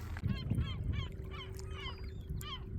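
Geese honk repeatedly in a steady series of nasal calls, fairly close, over a low rumbling background.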